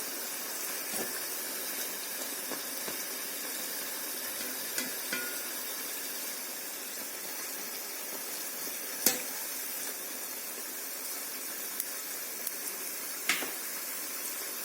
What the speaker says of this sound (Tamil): வடை வேகும் போதே நல்ல வாசம் வருது